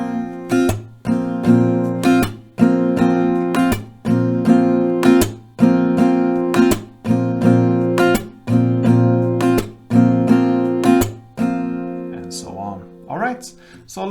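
Acoustic guitar strummed in a repeating down-up-clap-down pattern for a Latin pop song lesson, loud and close, with steady rounds of bright chord strums and sharp breaks, then ringing out near the end, no talking.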